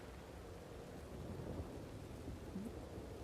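Thunderstorm in Red Dead Redemption 2: a continuous low rumbling roar of thunder with steady rain hiss, fairly faint and even throughout, with no voices.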